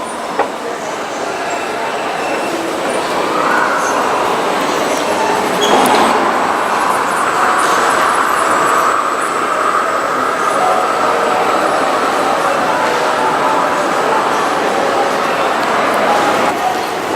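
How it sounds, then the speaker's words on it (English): A passenger train at an airport terminal pulling away, a sustained loud rumble of rolling wheels with a rising metallic whine, with some voices in the background. "Oh, did we miss that train? Yes, we just missed that."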